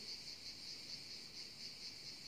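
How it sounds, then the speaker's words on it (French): Cicadas sing in summer dunes, a continuous high buzzing chorus that pulses gently and sounds moderately distant and soft, with no other sounds. "Entendez-vous les cigales? Elles font un sacré concert."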